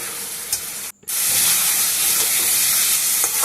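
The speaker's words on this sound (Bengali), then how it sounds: "দেখুন আস্তে আস্তে কষাতে কষাতে মশলা থেকে অনেকটাই তেল ছেড়ে এসছে" Masala spices fry in oil in a wok with a loud, continuous sizzle and hiss. There is a brief break, then the sound returns even stronger and steady.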